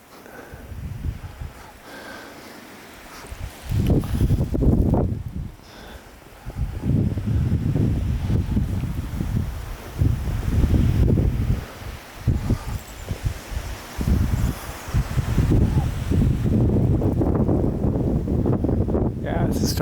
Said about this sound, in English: Yeah, this is starting to be a real wind.